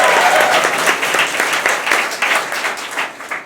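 A comedy show crowd gives loud, lively applause, with a few cheers mixed in, tapering slightly toward the end.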